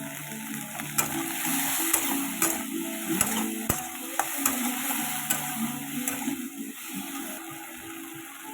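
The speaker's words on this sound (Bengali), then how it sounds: "এই যে পেঁয়াজ দিয়ে দিচ্ছি আর কটা লঙ্কা, এটা ভালো মতো ভাজা হোক।" Onions and green chilies frying in a pan, a steady close sizzle with occasional sharp crackles and the scrape of stirring, no voices.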